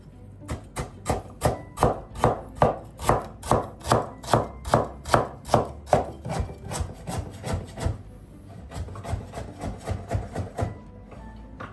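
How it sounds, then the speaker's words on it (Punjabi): Fresh ginger is sliced with a knife on a cutting board for a vegetable chicken masala, giving a fast, regular run of crisp chopping taps that slows slightly and softens toward the end, close and alone. "ਅਦਰਕ ਦਾ ਇਦਾਂ ਹਨਾ ਸਲਾਈਸ ਕੱਟ ਲੈਣੇ"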